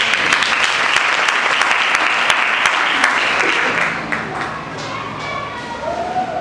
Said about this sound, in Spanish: Le damos un aplauso a nuestro hermano.